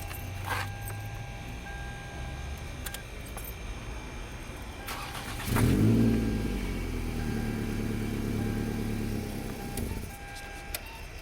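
An engine turns over and catches around the middle, settling into a low idle with a faint rumble and some background clatter.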